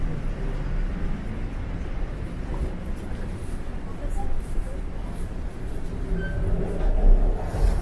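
Steady low rumble of a Toronto subway train arriving at Summerhill Station, loud and close, swelling slightly toward the end.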